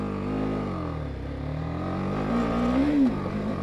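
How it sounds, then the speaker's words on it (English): A BMW G310GS single-cylinder adventure motorcycle engine idles, then rises in pitch as it is revved, close and fairly loud with no talk. "So let's start the engine."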